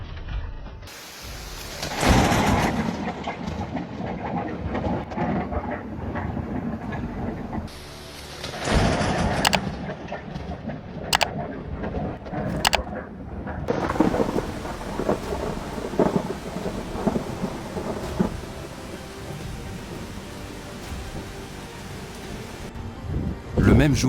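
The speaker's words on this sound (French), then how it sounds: "La scène terrifiante lorsqu'un éclair a frappé et fait exploser un arbre devant une maison au Tennessee le 15 mars." Lightning strikes and blows apart a tree in front of a house in Tennessee during a March storm, with loud booming thunder cracks and rumbles over steady rain, the blasts recurring through the scene.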